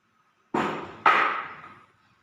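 Two sharp metallic blows of a hammer on a marking punch set against metal in a school workshop, each ringing briefly before fading, clear and close with no talk.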